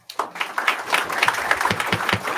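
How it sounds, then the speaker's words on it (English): An audience at a Mt. Juliet Board of Commissioners meeting claps, a burst of applause from several people in a room that starts sharply and continues unevenly at moderate loudness. "the clapping is out of order in this"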